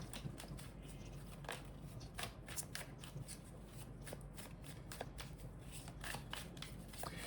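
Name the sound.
tarot cards being shuffled and drawn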